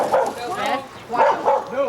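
Several dogs bark and yip in short overlapping bursts on a college campus, fairly close and loud, with a whimpering edge between barks.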